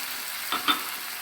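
Bitter gourd fries in a pan with a steady hiss, broken by two brief spattering bursts as milk is poured in, close and continuous.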